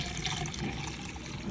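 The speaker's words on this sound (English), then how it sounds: "I'm going to pour it in this jar." Cerasee tea, a Jamaican herbal brew, poured steadily into a jar, giving a continuous close liquid splash and trickle that runs unbroken and fairly quiet throughout.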